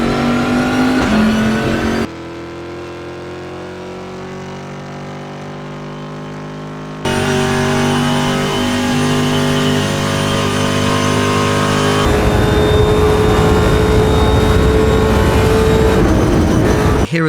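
Race car engines on the Mount Panorama circuit at Bathurst in several PC racing simulators, loud and steady, with revving and gear-shift pitch sweeps. The engine tone jumps abruptly between distinct engine sounds every few seconds, with no talk.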